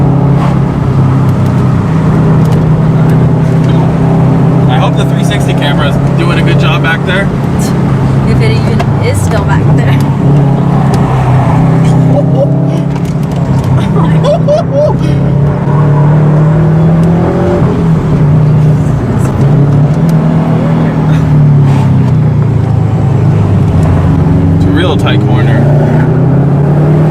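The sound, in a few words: whining from car differentials while driving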